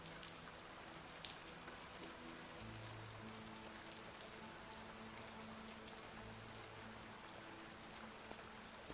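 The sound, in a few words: rain in a video game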